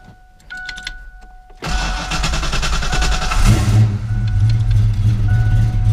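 A Ford Coyote V8 swapped into a Fox-body Mustang, with a choppy cam, fires up and settles into a rough, loping idle with an uneven, choppy rhythm, loud and close, after a brief electric whir.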